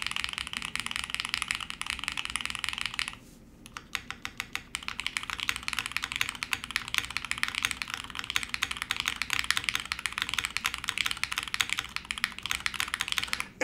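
Fast, steady typing on a Jelly Evolv mechanical keyboard with NK Olivia Silk switches, GMK keycaps and PE film, crisp close clacks with a brief pause near the start, with no talking.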